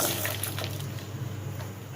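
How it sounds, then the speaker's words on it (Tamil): Water poured into a kadai of jaggery on a lit stove for sweet pongal syrup, a steady close splashing and trickling that runs without a break and without speech. "கொஞ்சம் தண்ணி ஊற்றுறேன்."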